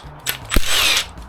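A ratchet works on bolts at the back of a Nissan Qashqai e-POWER generator in a home garage, giving a short burst of clicks and a whirring spin, close and fairly loud.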